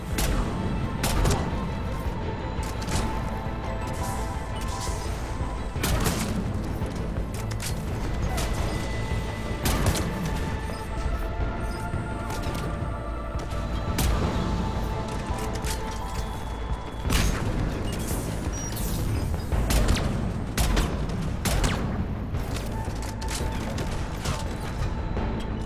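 Heavy cannon fire and mechanical combat noise from Mass Effect 3, with repeated loud booming blasts and crashes over a dense, continuous battle din.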